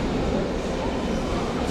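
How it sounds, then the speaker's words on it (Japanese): A Paris Metro line 9 train pulls out of the station with a steady, loud rumble of wheels and motors that fills the clip evenly from start to finish, with no voices heard. "地下鉄が行ってしまいましたね。"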